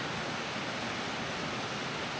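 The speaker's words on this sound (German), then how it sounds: "Dieser Fluss hier ist die Püttler." The Püttlach river in Pottenstein rushes steadily past, producing a dense, even hiss of flowing water that stays loud and unbroken throughout, with no voices.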